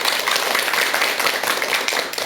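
A lecture audience claps a welcome for a doctor taking the stage, a dense, steady burst of many hands applauding together, loud and close throughout the short stretch.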